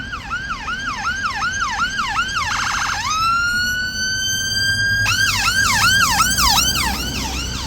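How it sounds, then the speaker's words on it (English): A British ambulance siren wails loud and close near Horse Guards in London, its rising-falling sweeps switching to a faster yelp and a long steady tone before the wail resumes over steady street noise. "Such a lovely, soothing sound on the eardrums. The British ambulance."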